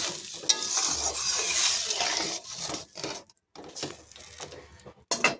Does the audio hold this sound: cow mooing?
no